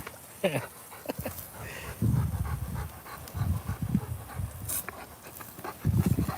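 A Rottweiler pants heavily in hot weather, quick rhythmic breaths close by, with a few faint whimpers and low background noise.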